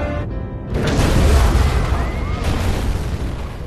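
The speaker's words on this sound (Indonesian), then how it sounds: "mobil itu pun meledak dan menewaskan seluruh penumpang yang ada di dalamnya." A car blows up in a Korean action film, a loud deep boom that swells into a long rumbling roar of fire and debris and slowly fades out.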